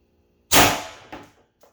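A single sharp shot from an HDR 68 pistol fitted with a tuning barrel kit, a loud close crack with a short decaying tail and a fainter clatter after.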